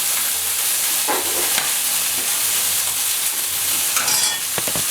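Prawns sizzle as they grill in a hot pan, a loud, steady hiss and crackle that runs throughout, with occasional stirring scrapes.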